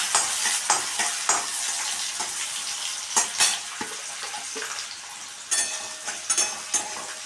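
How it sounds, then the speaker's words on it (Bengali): Chopped onion and green chilli frying in oil in a pan, a steady close sizzle broken by repeated scraping stirs and light utensil clicks, with no talking. "এবারে পেঁয়াজটাকেও আমি একটু ভাজা ভাজা করে নিচ্ছি"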